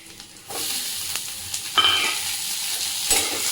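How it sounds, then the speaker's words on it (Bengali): Tomatoes tipped into onions already frying in a pan burst into a loud, close hissing sizzle, with scraping stirs and clatters of a spoon against the pan recurring over the steady frying. "না পেঁয়াজটা ভাজা ভাজা হয়ে গেছে এবার টমেটোটা দিয়ে দিই"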